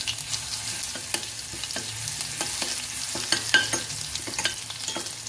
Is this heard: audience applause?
no